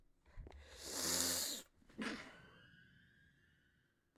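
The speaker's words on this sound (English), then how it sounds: "I sneezed." A single sharp sneeze bursts out close by, a short loud build then a snap, followed by a second weaker exhale and a fading breathy tail.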